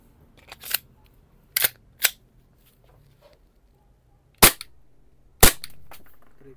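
A Novritsch SSP18 airsoft pistol fires five sharp, close, loud shots at uneven intervals, separated by quiet pauses and faint handling noise.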